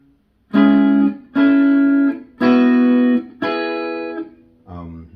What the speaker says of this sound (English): so the chord progression is going to sound like this.